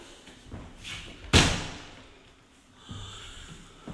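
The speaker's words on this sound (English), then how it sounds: "Let's shut this front door for a second." An old front door in an 1886 house is pushed shut with a single loud slam and booming thud, followed by a fading rumble and a softer knock and rattle a moment later; no talking is heard.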